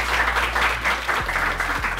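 Steady applause from an audience at a talk-show taping, dense and continuous for the full two seconds with no voices over it.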